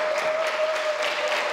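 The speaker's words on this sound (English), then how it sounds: "Let's give Jesus a clap offering" A church congregation claps steadily throughout, a dense continuous patter of many hands, with a faint sustained tone underneath.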